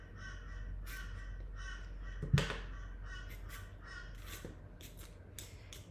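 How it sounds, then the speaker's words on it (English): Several crows cawing outdoors at moderate distance, harsh calls spaced irregularly across the stretch over a low steady background hum, with one sharp louder knock partway through. "These are the ones that you can hear are crows."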